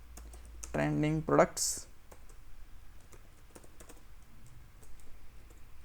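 Quick clicking keystrokes on a computer keyboard while writing web page code, soft and close, scattered throughout with a person speaking briefly near the start.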